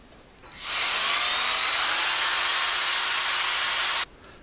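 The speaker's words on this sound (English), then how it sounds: "I can now drill the hole for the shaft." A power drill bores a shaft hole in a screwdriver handle, whining steadily for about three and a half seconds, a loud, high-pitched continuous bore that starts and stops abruptly.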